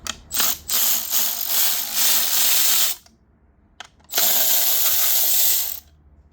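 Ratchet wrench clicking rapidly while backing out T30 Torx screws from a metal bracket on a car airbag assembly, likely an Infiniti G37, in two loud close bursts separated by a short pause.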